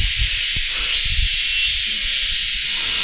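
Constant hissing rush of wind blowing steadily throughout, with faint low thumps and rumbles beneath it.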